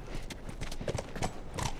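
Horse hooves clip-clopping in The Last of Us Remastered, a steady run of close, moderately loud hoofbeats on hard ground with no talking.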